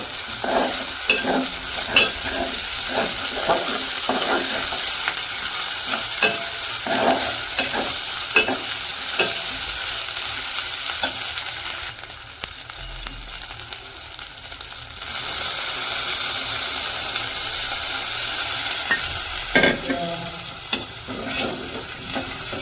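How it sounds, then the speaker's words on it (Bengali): Onions lightly frying in a pan over a clay stove, a continuous loud sizzle with regular stirring scrapes throughout, briefly dipping and then swelling again. "পেঁয়াজগুলো তো হালকা ভাইজে নিচ্ছি"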